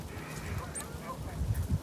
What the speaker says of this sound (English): And all the big ducky birds are right down the bottom.